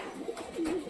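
Household pet pigeons give a brief, faint coo, one low rolling call swelling near the end of a short moment, with no talking.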